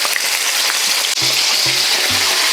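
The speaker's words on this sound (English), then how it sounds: "right now we've got our beef cooking at about a medium heat" Beef sizzles and crackles in hot vegetable oil in a wok over medium heat, a loud, dense, continuous frying hiss broken by a few low clunks of stirring.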